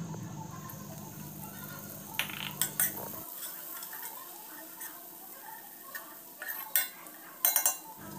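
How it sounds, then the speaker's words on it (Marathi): Ground rice roasts in hot ghee in a pan over a medium flame, with soft scraping and light metallic clinks of a spoon stirring it, close and fairly quiet. "आता यामध्ये आपण वाटून घेतलेले तांदूळ भाजून घेऊ।"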